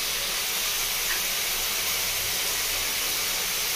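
Red amaranth greens with prawns frying in a pan in a Bengali village-style kitchen, giving off a loud, steady sizzling hiss that stays even and continuous throughout.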